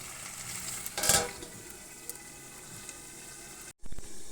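Mutton being slow-fried on very low heat for a Bengali goat curry, a soft low sizzle with a brief louder stir or clatter early and a short break near the end, no speech.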